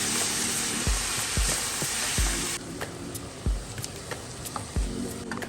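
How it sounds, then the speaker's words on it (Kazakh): Tomatoes hit hot oil with garlic and sweet and hot peppers for shakshuka, a strong close sizzle that drops partway, punctuated by repeated low thumps of stirring in the pan, no voices. "Енді помидорымызды салатын боламыз, оны да қуырып аламыз"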